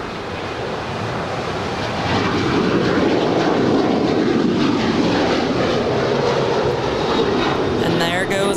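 An Alaska Airlines Boeing 737-900ER, four years old, takes off from LAX bound for Newark; a broad engine roar swells after the first couple of seconds and holds steady and loud, with chatter audible in the background.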